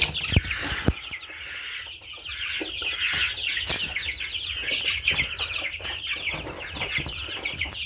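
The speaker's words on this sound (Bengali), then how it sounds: "সবগুলো দেশি মুরগির বাচ্চা আর একটা আছে আপনার মিশরি ফার্মি মুরগি" Chicks of local desi and Egyptian Fayoumi chickens peeping and chirping in a shrill, continuous chorus close by, with occasional clucks and rustling, no talking.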